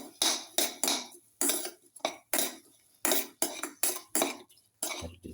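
Metal utensil scraping and clanking against a pan while cumin, egg, beans and rice are stirred together, in about a dozen sharp, close, regular bursts with brief pauses between them.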